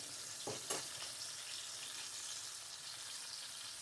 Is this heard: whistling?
no